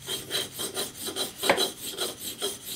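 Badly chipped shears honed on an 8000 grit diamond stone: a steady series of about eight even rasping strokes, close and quiet, each rubbing pass following the last at a regular pace with no talking.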